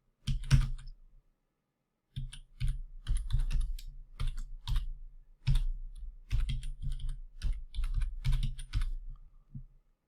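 A computer keyboard is typed on in quick uneven bursts of soft clicks as login credentials are entered, with one short pause near the start and no talking.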